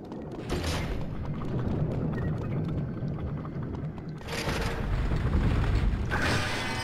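A creaking door-closing mechanism in the video game Epic Mickey: The Power of Two, with grinding, ratcheting clunks in two louder bursts over a low rumbling backdrop, no talk.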